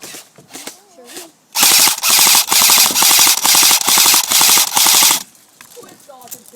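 An airsoft gun at the Tommy Covil airsoft field fires rapid, loud, close bursts meant to mimic a Halo battle rifle, with several short volleys in a row and quiet voices before and after.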